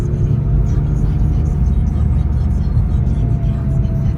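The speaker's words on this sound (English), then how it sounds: "So what we're doing is just taking Jim's car out for a spin" A McLaren 570GT out on a drive, its engine and road noise forming a steady, loud low drone that holds evenly throughout.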